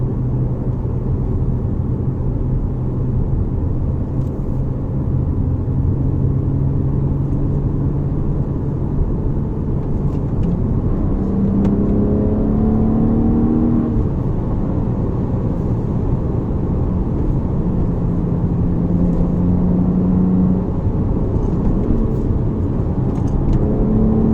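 A 2009 BMW 135i drives along a twisty road near the Mexican border in San Diego, its engine and tire roar steady and loud from inside the cabin, with gear changes shifting the engine pitch.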